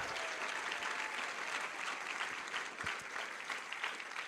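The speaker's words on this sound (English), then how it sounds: "let's thank GreenFair and give them a big round of applause" Audience applause at a hospital chefs' cooking challenge event, a steady dense wash of many hands clapping for about four seconds at moderate distance, with no talking.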